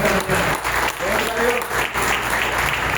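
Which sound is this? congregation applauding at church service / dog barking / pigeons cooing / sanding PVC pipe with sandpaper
congregation applauding at church service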